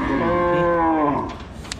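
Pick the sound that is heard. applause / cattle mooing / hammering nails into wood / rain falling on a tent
cattle mooing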